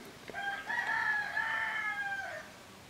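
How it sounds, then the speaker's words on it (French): A rooster crows once in a long, drawn-out call that sounds somewhat distant and soft over a low background hiss, with no talking. "c'est bien le coq"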